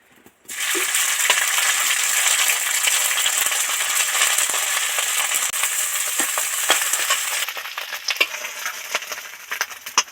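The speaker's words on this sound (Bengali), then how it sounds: "চিংড়িটা যেহেতু কাল ভেজে রেখেছি সেই জন্য আর একবার একটুখানি ভেজে নেবো" Prawns frying in oil in a pan, a steady loud sizzle that starts abruptly and runs throughout, with scattered sharp crackles and pops growing more prominent toward the end.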